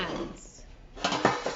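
Metal baking pans for no-knead challah bread being handled in a kitchen, with quiet scraping early on, then a few sharp clanks and rattles in quick succession near the end.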